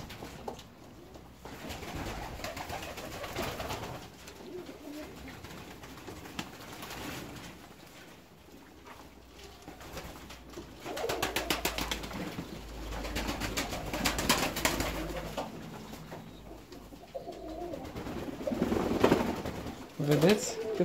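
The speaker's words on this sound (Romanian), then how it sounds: "Cum acești porumbei se bucură de apa cu sare de baie." Fancy ornamental pigeons coo in soft, repeated bursts while bathing in water, the calls rising and falling over a constant background with some splashing and voices nearby.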